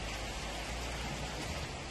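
Heavy rain pours down on a forest in Uttarakhand, a dense, steady hiss that fills every moment without letup.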